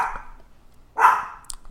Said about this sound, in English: Also my dog, who's just started barking.